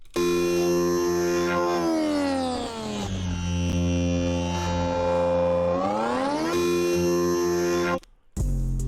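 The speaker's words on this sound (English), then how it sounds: "I just created this very basic melody that has" A basic synth key melody for a beat, gliding between octaves with smooth pitch slides, sustained and bright throughout before cutting off abruptly near the end.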